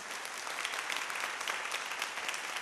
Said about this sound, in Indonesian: 掌声归给我们的神。